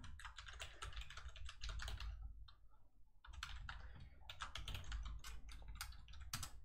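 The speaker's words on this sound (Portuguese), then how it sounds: "deixa eu só digitar meu usuário sem aqui" Quick, irregular keystrokes on a computer keyboard as a username is entered to log in to a hosting server, close and clear with a short pause midway and no talk.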